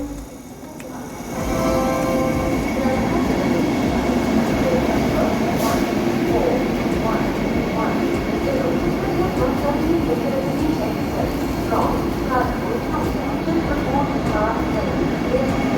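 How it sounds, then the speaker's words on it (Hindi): The Vande Bharat Express arrives at Ayodhya Cantt station with a steady, loud rumble that rises out of quieter ambience and holds throughout, with faint rhythmic clatter and occasional squeaks, while a person talks over it. "ये हमारी आ चुकी है अयोध्या कैंट वंदे भारत, जिसका ट्रेन नंबर है"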